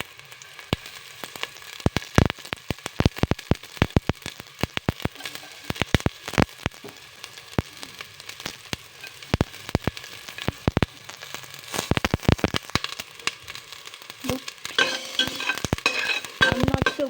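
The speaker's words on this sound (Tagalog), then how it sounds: "I'm going to saute it. Put the whole garlic in. And also the minced garlic." Whole and minced garlic sautéing in a hot pan, a dense crackling sizzle with sharp pops scattered irregularly, growing busier and louder toward the end, close by with no talk.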